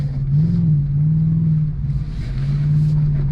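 A 2023 Ford Raptor R full-size truck driving through woods, its engine holding a steady low hum that rises slightly and eases back a few times, close and loud, with no talk.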